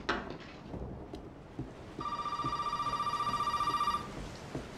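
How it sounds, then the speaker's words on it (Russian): In the video game Resident Evil 7, a telephone rings with a steady electronic trill lasting about two seconds, clear and fairly loud, over a low ambient rumble of rain and thunder. "Ну, телефон же-то вроде отключен."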